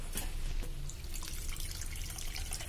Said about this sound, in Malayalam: ആവശ്യത്തിന് വെള്ളം ഒഴിച്ചു കൊടുക്കാം.